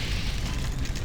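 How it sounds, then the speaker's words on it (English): Rocket explosion in the video game Doom 3: a loud, dense, rumbling blast that fills the moment with heavy low roar, with no voice over it. "Also, I've been using a lot of rockets."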